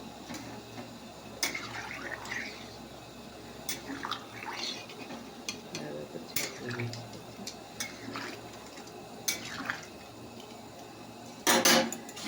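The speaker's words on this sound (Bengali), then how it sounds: "তো চলো একটু ঢাকা দিয়ে দিই।" A metal lid set onto a cooking pot in a home kitchen, a few sharp clatters and clinks over a steady background hiss, with a louder rattle near the end.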